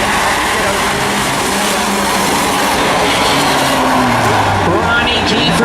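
Race cars in a claimers event roar steadily down the front straight of an oval, a dense continuous engine drone with hints of tire noise, loud and close throughout with a voice faintly under it.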